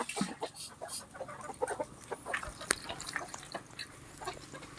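Chickens cluck and chatter in short bursts around the listener, a busy mix of calls with faint background noise and no talking.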